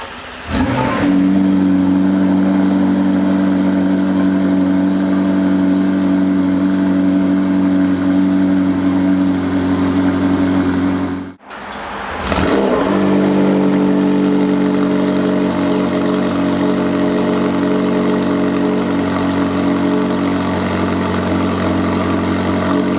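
A McLaren 765LT longtail with its 4.0-litre twin-turbo V8 idles loud and close with a deep steady exhaust drone, cuts out briefly midway, then fires back up with a sharp rev and settles into idle again.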